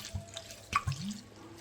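Water is poured into a pot to boil radish leaves, a short, close splash and trickle with a few drips, moderately loud and with no voices.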